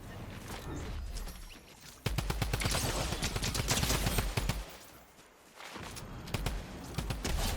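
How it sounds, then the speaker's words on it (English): A drum gun fires in the Fortnite video game in rapid automatic bursts of sharp shots, loud in the middle and with a pause before a final volley. "this drum gun is nasty"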